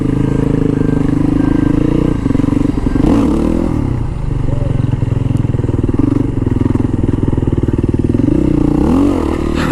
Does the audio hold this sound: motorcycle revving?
yes